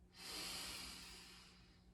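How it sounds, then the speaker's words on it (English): A slow, deep inhale drawn through the nose during a guided breathing exercise, a soft airy hiss that swells quickly and then tapers over nearly two seconds, close and quiet with no talking. "Inhale."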